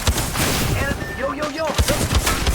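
Gunfire in a video game played by two brothers, a dense loud fusillade of rapid shots with overlapping bursts, with excited voices talking and shouting over it.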